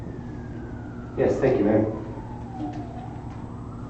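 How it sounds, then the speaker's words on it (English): An emergency siren wails faintly from outside a city council committee meeting room, its tone sliding down under a brief spoken voice. "all of a sudden the sirens are outside right now"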